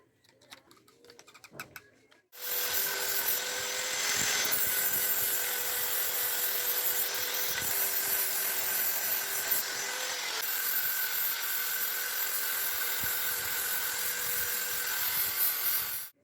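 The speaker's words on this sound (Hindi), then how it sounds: "तो अपने इस ग्राइंडर मशीन से इसको ठीक करते हैं।" An electric grinder runs steadily on the edges of a granite rolling board (chakla), a loud, continuous high-pitched whine with grinding texture that starts abruptly after a brief quiet moment and holds for over ten seconds.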